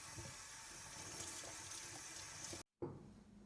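Water runs steadily from a faucet for moistening veg-tan leather before embossing, a continuous close rushing splash that stops briefly and then resumes more softly.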